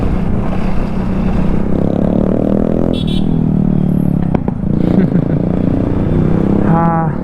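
A Splendor motorcycle converted into a cafe racer, its loud exhaust rumbling steadily and close by, with engine tones shifting midway and a brief high chirp near the end.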